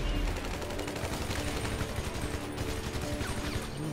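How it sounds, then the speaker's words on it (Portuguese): Rapid bursts of machine gun fire in GTA 5 Online, continuous rattling volleys at close range throughout, dense and steady with no talk. "Essa metralhadora aqui é boa também."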